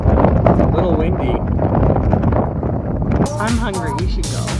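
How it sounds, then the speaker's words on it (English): Gusty wind buffets the microphone throughout on a long-distance bicycle tour, a steady roaring rush under people talking nearby. "It's a little windy."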